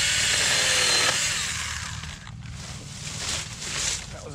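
A Stihl GTA 26 small battery handsaw cuts into a thick tree outdoors, a steady buzzing whine that drops in pitch and eases partway through as the blade bites, continuing at moderate level to the end.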